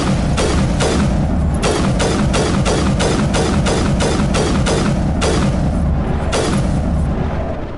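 A rapid string of about a dozen heavy booms as grenades go off one after another in the video game Mass Effect, on Feros. The thuds are loud, close and steady, with only a few short gaps near the end.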